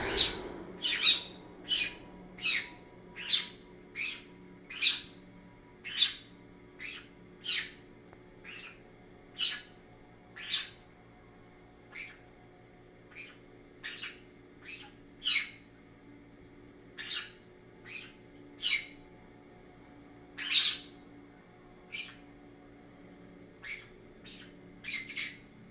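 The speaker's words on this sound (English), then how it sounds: "Silly birds." Small birds chirp and squawk in a steady run of sharp, bright calls, roughly one every second or two, fairly close and loud over a low background hum.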